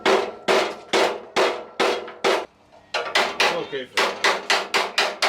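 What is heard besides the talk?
hammering to separate Miata body panels, removing seam sealant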